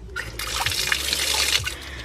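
Strong steady stream of water running from a faucet into a campground washroom sink, a loud close hiss and splash that holds for a couple of seconds, no talk.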